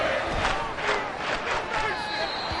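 Stadium crowd roar in the Madden NFL 23 football video game on PS5 late in the fourth quarter, a loud continuous wash of cheering voices with swelling shouts rising and falling over the whole stretch.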